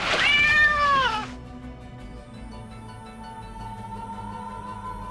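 A cat lets out one loud, drawn-out meow close by, followed by quiet background hum.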